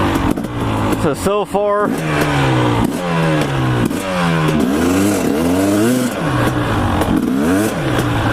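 A dirt bike with a freshly fitted spark plug revs in sharp, repeated bursts, its pitch sweeping up and dropping back, loud and close, with a brief spoken word over it.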